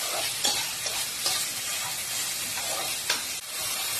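Egg and potato bhurji sizzles steadily in a pan while being stirred, a constant frying hiss broken by a few scraping stirs of the spatula, close and alone without talk.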